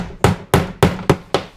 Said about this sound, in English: Tack hammer.